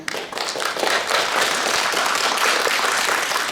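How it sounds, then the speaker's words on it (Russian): Audience applause at an awards ceremony for a children's poetry recitation contest, a dense, steady clatter of many hands clapping that holds evenly for the whole stretch without pause. "Встречаем аплодисментами."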